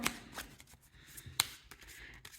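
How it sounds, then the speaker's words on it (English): A deck of playing cards for a card game is shuffled in a few quick riffles and snaps, close and fairly quiet, with no talking. "then give the deck a good shuffle"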